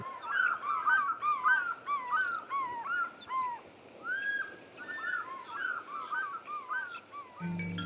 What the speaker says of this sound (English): Did you hear those different calls made by the fish eagle?